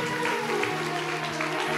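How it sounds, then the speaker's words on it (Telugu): A church congregation claps at a worship service, with dense, steady applause filling the whole stretch, fairly close and continuous and without clear gaps or talk over it. "గట్టిగా చప్పట్లు కొడదాం"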